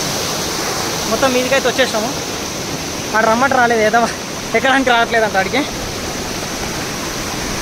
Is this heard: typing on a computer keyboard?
no